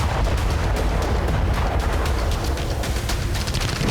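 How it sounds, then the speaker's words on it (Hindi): A Ukrainian bomb strike destroying a building in Kherson: a loud, continuous roaring rumble with dense crackling bursts and repeated heavy thuds throughout, with no let-up. "ये खेरसॉन का वीडियो है जहां यूक्रेन ने बम दागकर एक इमारत तबाह कर दी"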